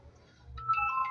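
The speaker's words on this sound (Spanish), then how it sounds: "Es que es un teléfono que está, otro dispositivo que está sonando acá." A nearby phone rings with a short electronic ringtone during a radio call-in interview, a thin bright tone sounding over the low hum of the line in one brief burst.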